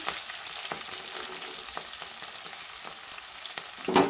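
Onion frying with mustard seeds and green chillies in a pan, a steady bright sizzle with a few scraping stirs of a spoon, one louder clatter near the end, no talking.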